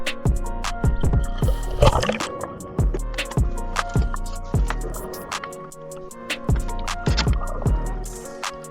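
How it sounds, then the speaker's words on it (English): Underwater ambience while drifting in a bay in the Florida Keys during a lobster dive, with recurring sharp clicks and bubbly pops over a steady wash of water, no talking. "Welcome underwater, everyone."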